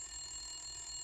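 A telephone ringing faintly with a thin, steady electronic tone held under a quiet background hum, short and unchanging, no voices.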